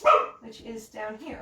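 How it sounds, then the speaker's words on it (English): A dog barks sharply once, close and loud, then gives softer yips and whines while a person keeps talking indoors. "That's my dog sharing in the excitement about permafrost."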